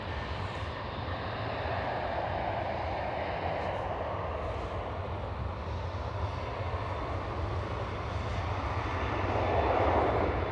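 A KLM Boeing 737 at Schiphol Amsterdam gives a steady, moderately loud engine rumble and whine that holds throughout and swells slightly near the end, with no voices.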